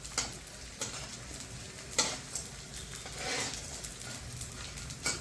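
Edible gum (dink) fries gently over low gas for laddoos, giving a quiet bubbling sizzle broken by soft, irregular taps and scrapes of stirring.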